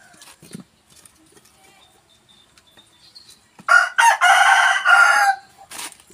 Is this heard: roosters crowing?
yes